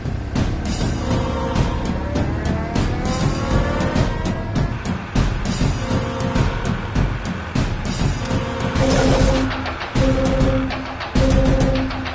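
A car speeds past on a quiet, empty road. Its engine rumble is loud and continuous, and sustained horn-like tones come near the end over a dense backdrop.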